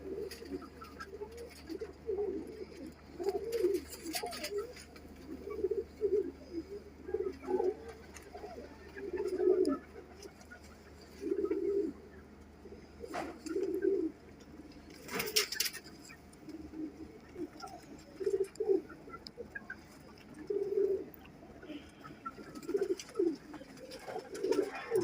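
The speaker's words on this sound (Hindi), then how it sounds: "माशाल्लाह बहुत अच्छा कबूतर है" Pigeons coo repeatedly in low, rolling phrases, fairly close, with a few brief sharper noises and a steady low background hum.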